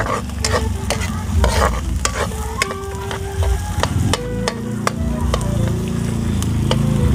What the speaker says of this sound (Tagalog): Pinapainit ko muna ng husto sa mantika para pareho silang sabay silang maluto